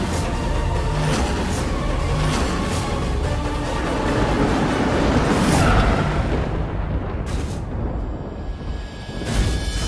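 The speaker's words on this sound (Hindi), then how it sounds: "राजीव तक की गाड़ी आ गई" A car pulls up at a haveli with its engine revving, a loud, dense rumble that swells around the middle and fades toward the end, with no talk over it.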